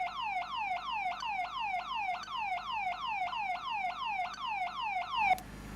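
A loud emergency locator transmitter alarm in an X-Plane 11 Robin DR401 repeats a rapid falling whoop over and over in steady rhythm, then cuts off abruptly with a click.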